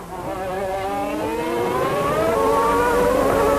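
Formula 1 cars at Monaco in the 1992 season, with Mansell right behind a McLaren on the final lap, make a loud, sustained engine scream that climbs steadily in pitch as the cars accelerate.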